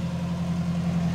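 1957 tractor engine idling nearby with a low, even throb, heard alone and fairly quiet.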